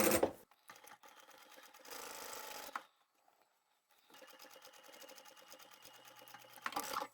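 A sewing machine back stitching fabric with a quarter-inch seam allowance, stitching in two bursts of rapid mechanical whirring separated by a brief pause, close and fairly quiet, with a click at the start and end.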